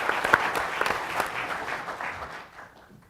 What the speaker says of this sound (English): people like Dr. Danforth, who really deserves a round of applause